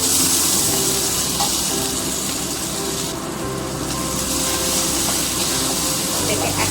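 Grated garlic and ginger hit hot oil in a pan, giving a loud, steady broadband sizzle that hisses continuously up close with no letup.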